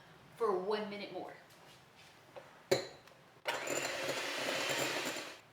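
A blender whirs loudly for a couple of seconds as it mixes homemade mayonnaise with Dijon mustard, starting abruptly after someone speaks and a sharp click, then running at a steady roar.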